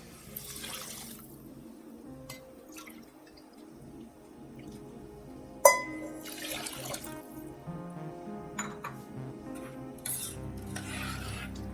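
Water trickles and drips into a pot of rice and cumin for jeera rice, with a sharp clink of a utensil and bursts of splashing and stirring at close range.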